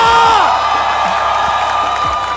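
A live crowd cheers and whoops at the Istora arena during the Snapdragon Mobile Challenge Finals, a Mobile Legends esports match. The roar is steady and loud, with voices blending throughout.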